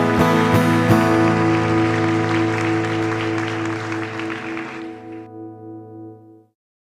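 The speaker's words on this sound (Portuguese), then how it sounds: "Aplauda o nome do Senhor Jesus" A church congregation applauds while a sustained instrumental chord rings underneath. The clapping fades out after about five seconds, leaving the held chord alone until it stops abruptly.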